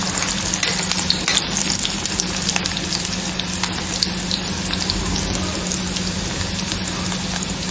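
Sliced onions fry in mustard oil in a pan, a loud, dense, continuous sizzle with busy crackling throughout and no voices.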